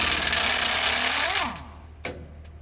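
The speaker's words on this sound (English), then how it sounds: "stick your 1/2 inch gun with a 3-inch extension and a really inappropriate socket up in" A 1/2-inch impact wrench with a 3-inch extension and an ill-fitting socket works loose an M35 jackshaft: a loud, steady hammering whir for about a second and a half, winding down in pitch, then a brief sharp knock.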